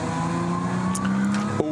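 A Porsche 911 GT3 Cup race car drives on the Nordschleife during an NLS endurance race, its engine a loud, sustained racing note that climbs in pitch, ending in a brief sharp burst.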